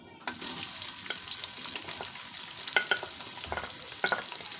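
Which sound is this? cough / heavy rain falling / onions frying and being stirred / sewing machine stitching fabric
onions frying and being stirred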